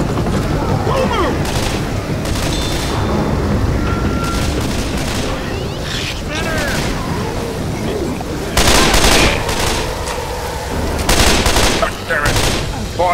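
Gunfire in the Left 4 Dead zombie shooter game: continuous rapid shots and bursts over dense game noise for the whole stretch, with louder volleys toward the end and players talking over it.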